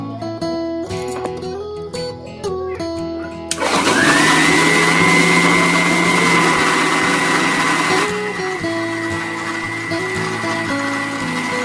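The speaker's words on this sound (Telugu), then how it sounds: "ఇలా మెత్తగా వస్తుంది మిక్సీ పట్టాలి" A kitchen mixer grinder blends ABC juice (apple, beetroot, carrot) with a cup of water added, giving a loud, steady whirring drone that starts abruptly after some quieter clatter. It runs continuously, changes pitch slightly partway through, and no one speaks.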